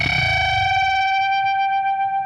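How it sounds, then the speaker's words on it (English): Electric guitar through a JHS Coyote fuzz pedal, two notes bent together and swelling into a sustained, saturated tone that rises with a choppy, wavering texture, loud and alone. "when you bend 2 notes together, it creates this really rising, choppy sound"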